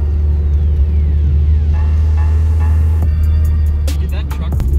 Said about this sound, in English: while the Forester warms up